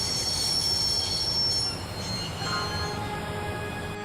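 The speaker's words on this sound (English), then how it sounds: "I'd always wanted to stop a train, and now was my chance." A train in the video game Broken Sword Reforged rolls along with a loud, continuous rumble and high, shrill wheel squeal ringing over it, steady and close with no speech.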